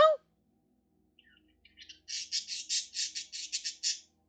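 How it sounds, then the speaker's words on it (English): A pet bird gives a quick squawk, then after a pause a run of quick, high chirps and squawky calls, fairly close and alone. "you're chirping over there and being happy"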